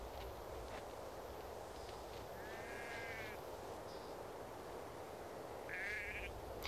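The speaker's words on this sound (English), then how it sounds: "these bighorn sheep are by no means settling down for winter" Bighorn sheep in the Montana Rocky Mountains during the autumn mating season, with two or three thin, wavering bleats rising faintly over a steady outdoor hiss of wind, heard from some distance.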